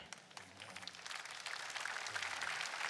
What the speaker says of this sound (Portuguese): Palmas para meu irmão.